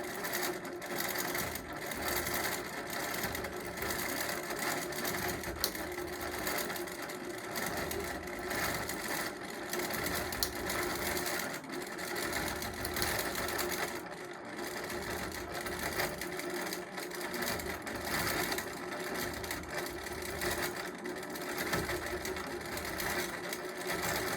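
A longarm quilting machine stitches a label onto a quilt, a steady, fast mechanical whirring and clatter that runs on continuously at moderate volume with no talk.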